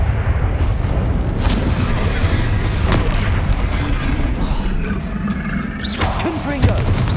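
Spell impacts from casting Expelliarmus in Hogwarts Legacy, a loud continuous barrage of booming magical blasts and whooshes with a swelling burst near the end, set over dense game ambience and scattered voice.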